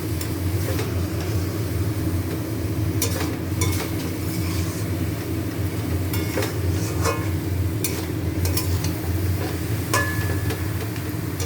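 Cabbage cooked with a fish head in a pan makes a steady sizzling fry, with occasional stirring clatters throughout.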